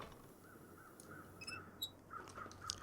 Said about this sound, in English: There's all these crows flying around above